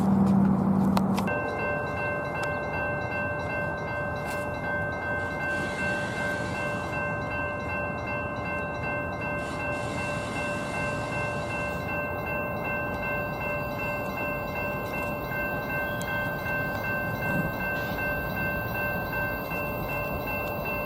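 A Union Pacific freight train rumbles steadily past, its K5LA horn sounding a long sustained chord throughout, loud and close with a brief low tone at the start.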